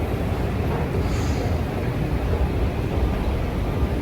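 A metro train rolls along with a steady low rumble and broadband roar throughout, fairly loud and even, with no voices.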